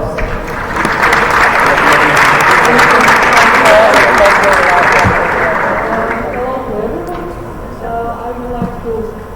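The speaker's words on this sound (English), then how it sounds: "let's welcome her with one warm applause" A symposium audience at a pharmacy students' assembly breaks into warm, sustained applause welcoming a speaker to the stage; dense clapping fills the room, then thins and fades over the last few seconds.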